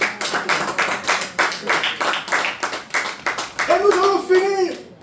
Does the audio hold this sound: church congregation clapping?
yes